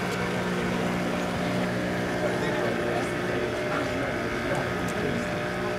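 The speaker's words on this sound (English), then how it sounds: "And we got our two boats coming in." Two motorboats arriving at a port near Changuu (Prison) Island, Tanzania, drone steadily nearby, a continuous low hum with wind noise and faint distant voices.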